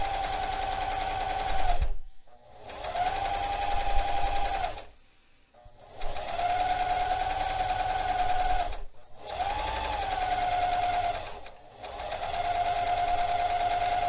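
A sewing machine stitches a top's hem in several steady runs of whirring and rapid needle clatter, broken by short pauses, heard close and alone.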